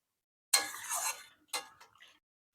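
A metal lid set over a cooking pan holding pointed gourd and prawns: a sharp close clink, then a second lighter clatter as it settles, with silence around.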